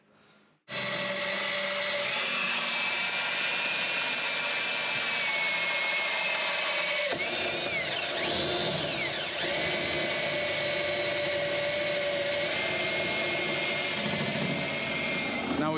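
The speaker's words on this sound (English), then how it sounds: "we drilled the front one, we're just going to drill the back one." A power drill bores through metal while rock sliders are fitted to a Land Rover Discovery 2, a loud continuous whining drone lasting about fifteen seconds with a slight pitch shift midway, close by.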